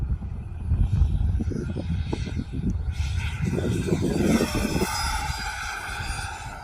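A Freewing F-22 90mm electric ducted-fan RC jet makes fast low passes, its loud rushing roar swelling and then fading into a rising high-pitched whine as it streaks past outdoors.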